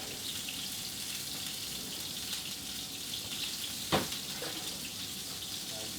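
Chicken meatball skewers fry with a steady, even sizzle of hot oil, close and constant, interrupted once by a short sharp clatter midway.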